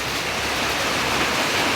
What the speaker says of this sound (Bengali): এই দেখেন বৃষ্টি চলে আসছে